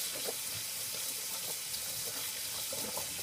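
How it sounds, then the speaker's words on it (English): Water runs from a tap over a vintage snapback hat as it is rinsed during restoration, a quiet, steady hiss of flowing water with faint splashing, no talking. "We're going to rinse off what we did."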